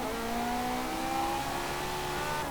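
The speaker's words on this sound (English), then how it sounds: "Fantastic sounding engine." A Ferrari 458 Italia engine in the Forza Motorsport video game, a steady high-pitched revving drone with rising tones, loud and continuous with no speech.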